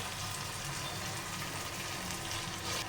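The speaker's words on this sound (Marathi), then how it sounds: "बघा मसाले छान असे परतले गेलेले आहेत बघा" Spices steadily sizzling in a hot pan for street-style egg bhurji: a continuous, dense, fairly quiet frying hiss with no voices.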